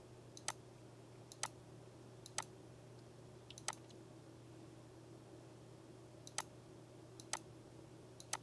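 A computer mouse is clicked back and forth, giving faint, sharp single clicks at irregular intervals over a quiet background hum.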